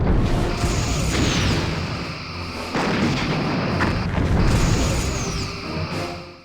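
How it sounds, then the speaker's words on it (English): Torpedoes firing from a Sovereign-class starship in the game Star Trek: Bridge Commander, booming launches and rumbling blasts repeating in waves with rising whooshes, loud and close, no talking. "Torpedoes, please."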